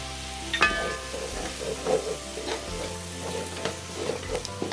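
Ginger garlic and green chili paste with turmeric fries in a pan for chicken pulao, giving a steady sizzle with scraping stirs and soft clinks throughout, close and moderately loud, with no talking.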